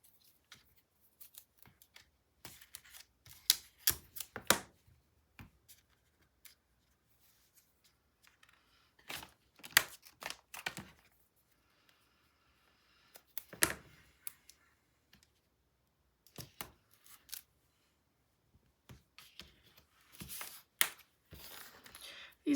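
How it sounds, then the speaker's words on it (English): Tape crackles and rips while magnets are taped into a handmade 7 x 5 photo box, in scattered bursts of crinkly tearing and rustling with quiet gaps between. The sounds are soft and close, with no talking. "a total of 4 magnets. We're going to tape these in."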